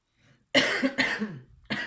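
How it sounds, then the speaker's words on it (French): Two sharp, close coughs from someone with a cold in quick succession, then a brief pause and a third cough beginning, against otherwise quiet background. "Excusez-moi, j'ai un peu la toux"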